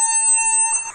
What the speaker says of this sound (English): I decided to pull a fire alarm on the cruise